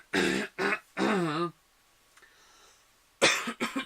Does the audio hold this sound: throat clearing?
yes